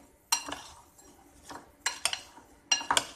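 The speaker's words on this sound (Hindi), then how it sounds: "और आधा नींबू इसको मिक्स कर लेंगे" Fruit chaat with sugar and half a lemon being stirred in a bowl: a spoon scrapes and clinks against the dish in three separate bursts, close and moderately loud, with quiet pauses between.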